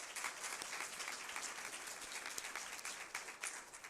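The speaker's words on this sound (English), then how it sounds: "Give yourselves a round of applause." Students at a technical college letter-of-intent signing day applaud, dense steady clapping from a crowd filling the whole stretch at a fairly distant, even level.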